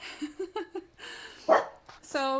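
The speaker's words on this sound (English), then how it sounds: "Sorry about the dog." A dog in the room gives a quick series of short yips and barks, then a louder, longer bark. A person speaks nearby.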